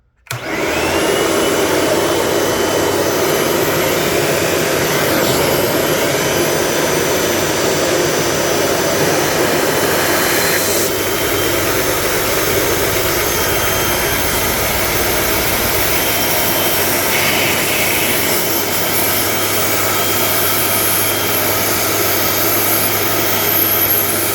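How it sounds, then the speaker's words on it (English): A two-cylinder Lego vacuum engine with throttle runs in a loud, continuous whooshing roar, with a thin high-pitched squeal of air leaking through, steady for over twenty seconds. "That high-pitched squealing noise is just air"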